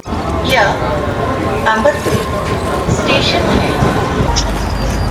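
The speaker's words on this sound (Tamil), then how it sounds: "இப்போ ட்ரெயின் மூவ் ஆகிடுச்சு." Low rumble and clatter of a train pulling away, with voices chattering nearby and occasional squeals over the steady mechanical noise.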